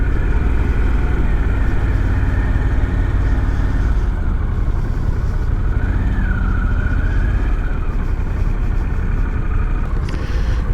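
A 2024 Harley-Davidson CVO motorcycle engine rumbles steadily and loudly up close, a continuous low idle-like drone with no speech over it.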